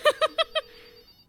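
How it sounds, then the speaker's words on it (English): In the video game There Is No Game, a phone rings with four quick, bright electronic trill pulses, then a thin fading tone, heard close and clean with no voices. "Answer the phone!"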